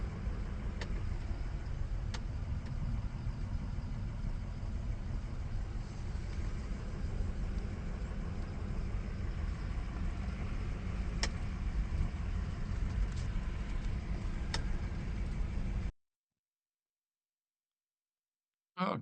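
A car drives a gravel forest road in the Okanogan National Forest, giving a steady low rumble of engine and tyres that holds throughout before cutting to silence near the end.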